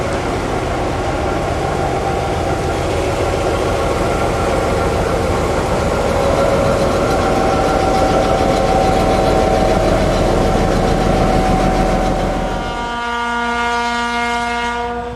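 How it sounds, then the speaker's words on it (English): Class 781 diesel locomotive idling at Letohrad shed, a loud steady throbbing drone with a rising tone mid-way, settling into a lower, smoother hum near the end. "This is Letohrad shed, and a Class 781 awaits its next turn of duty"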